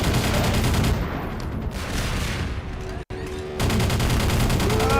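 Sustained gunfire and explosions in the Half-Life 2 mod Dark Interval, a loud, dense barrage that runs almost without pause, breaks off in a brief silent gap, then resumes at full force.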